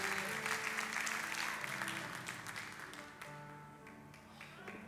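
Church congregation applauding and cheering to celebrate baptisms, a broad wash of clapping that stays steady, then fades slightly near the end with music tones underneath.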